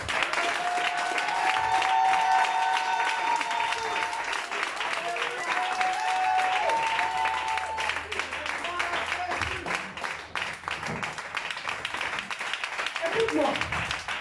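Church congregation applauding and acclaiming Jesus, steady sustained clapping and cheering from a crowd throughout, with voices and singing mixed in.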